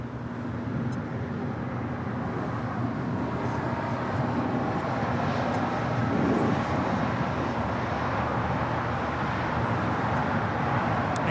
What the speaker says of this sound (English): about to touch down, is Norse Flight 711 from London, Gatwick